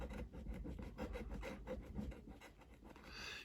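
Someone scratches an FDJ lottery scratch card up close, a rapid series of rhythmic rasping strokes with no talking.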